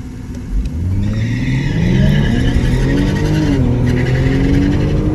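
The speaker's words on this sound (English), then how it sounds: "We're gonna do auto hold and just floor it." Kia Stinger GT launching at full throttle on a drag strip, its engine roaring loud and close as it climbs steadily through the revs with tire noise mixed in.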